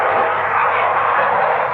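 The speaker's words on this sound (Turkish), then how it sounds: "Jetler geçiyor." A steady broad roar of jet aircraft engines passing overhead, loud and continuous throughout, with no pauses.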